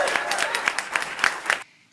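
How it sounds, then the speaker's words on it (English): A round of applause for an advocacy group at a press event about Governor Andrew Cuomo's harassment investigation, with a brief burst of loud clapping and cheers that cuts off abruptly. "Give Time's Up a round of applause."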